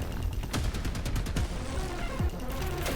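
Sniper gunfire from the video game Prodeus: a quick succession of sharp shots cracking through a dense, continuous din of game action, loud and close, with no talking.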